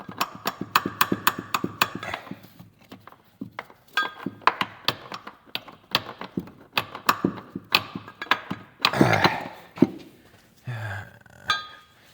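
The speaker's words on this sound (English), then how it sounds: "Let's try this hammer. A little brass hammer." Rapid metallic taps from a small brass hammer in quick bursts on a BMW E30, then scattered single knocks with pauses between, close and fairly sharp.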